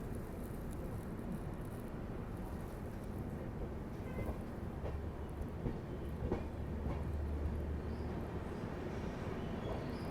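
A passenger train rolls slowly into Mathura Junction on a foggy day, heard from on board as a continuous low rumble with faint rhythmic wheel clatter and occasional knocks, steady throughout.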